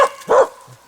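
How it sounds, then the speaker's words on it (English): Mauser, a small hunting dog, gives one loud, close bark, a short sharp yip followed by a faint trailing whimper, with no talking. "Ja, du kan skälla."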